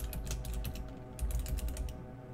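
Keystrokes on a computer keyboard while typing code, a quick run of soft, close clicks that pauses briefly midway and then resumes, alone without talk.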